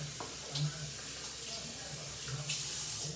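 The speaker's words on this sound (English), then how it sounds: "I'm gonna add about half a jar of water" Water poured from a jar into a pot of Cajun spaghetti sauce, a steady faint pouring and splashing that swells briefly near the start and again toward the end.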